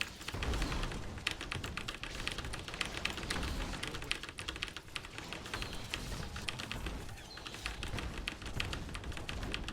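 Rapid typing on a computer keyboard, dense bursts of clicky keystrokes in quick succession with short pauses, close and fairly loud, with no talking.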